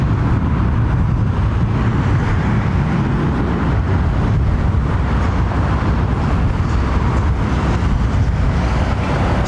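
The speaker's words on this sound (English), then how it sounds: "What a great sound from those engines, man." Jet engines of an older airliner at London Heathrow Airport, a loud unbroken roar and rumble that fills the whole stretch without pause.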